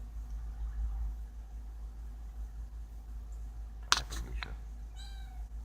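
After a quiet stretch with a low hum, a few sharp knocks sound, then a single thin, high meow.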